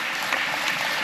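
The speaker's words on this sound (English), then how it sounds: "Give yourself a round of applause, okay? And everyone else here, a round of applause." A convention audience at a live fandom talk on mental health in Basingstoke claps together in a dense, even wash of applause that carries loudly throughout.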